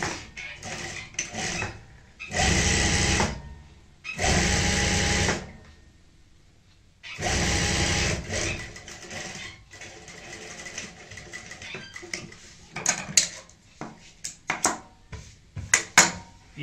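A sewing machine stitches a chair cushion in several separate bursts of rapid, close clatter, broken by quiet pauses, followed by light handling and fabric-shifting clicks, with no speech.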